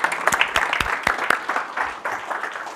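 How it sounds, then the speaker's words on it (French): Crowd applause with a dense patter of many hands clapping, steady and fairly loud throughout, with a few sharper claps standing out near the front. "Applaudissez-vous s'il vous plaît parce que vous êtes des millionnaires."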